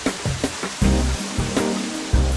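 A water-powered trip hammer from 1746 pounds heavily in a steady rhythm of several blows, each thud ringing briefly over a constant roar of rushing water.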